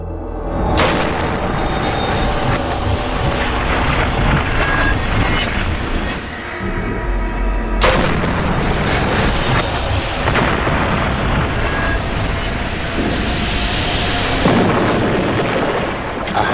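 A model aircraft fuselage pressurised to 8.25 psi inside a test chamber is deliberately ruptured, producing two sudden loud bursts, each followed by sustained roaring rush and rumble of escaping air with debris-like crackle.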